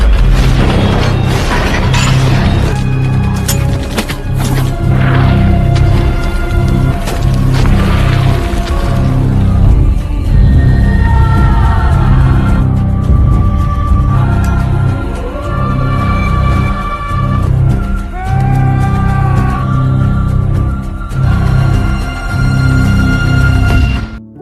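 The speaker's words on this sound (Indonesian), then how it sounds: "Mayor Smith lalu mengirim perintah untuk melakukan serangan artileri tepat ke posisi Peleton 11" Artillery strike pounding an Australian platoon's position in a Vietnam War film against the Viet Cong, loud and continuous with heavy booming blasts, crashing debris and rumbling over nearly the whole stretch.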